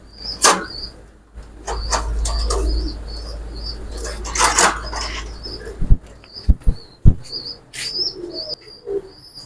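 Pigeons coo repeatedly in a breeding room, with soft chirps and a few sharp knocks and thumps nearby, and no talk.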